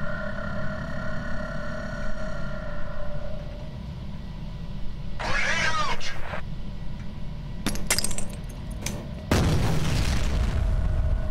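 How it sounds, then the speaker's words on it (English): Several grenade blasts in the shooter game F.E.A.R. land as heavy booms with debris and rattling crashes, arriving in quick succession over a low continuous rumble of game ambience. "I think the grenade killed them."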